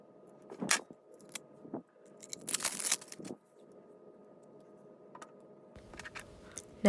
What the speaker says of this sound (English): Now I'm just unwrapping the new white cones.